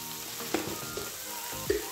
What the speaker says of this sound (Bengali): এবার এটাকে আমি হাই ফ্লেমে দিয়ে কিছুক্ষণ নাড়াচাড়া করে যখন একটু কালারটা চেঞ্জ হয়ে আসবে